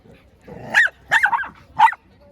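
A dachshund barks among other dogs, three sharp yapping barks spaced apart, close and loud, with a low whine before the first one.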